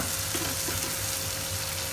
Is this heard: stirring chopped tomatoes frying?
yes